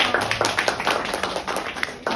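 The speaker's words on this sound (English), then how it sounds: "Super round of applause." Brief clapping follows a student's presentation at a school program event, a handful of hands tapping in an uneven scatter that continues steadily for a couple of seconds, moderately close with faint voices underneath.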